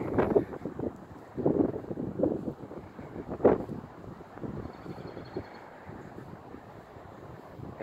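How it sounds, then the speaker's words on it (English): Strong wind buffets the microphone on a sunny outdoor walk, loud gusting rumbles at first that ease into a steadier, lower roar. "It's very windy up here, but it's very nice."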